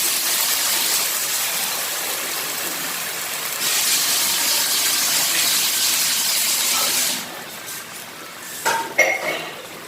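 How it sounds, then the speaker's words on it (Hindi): About two cups of water pour into a hot pot of potato curry, raising a surging gush and hiss that rises partway through, then drops back to a quieter simmer with a few metal clinks. "और अब इसमें मैं पानी शामिल कर रही हूँ।"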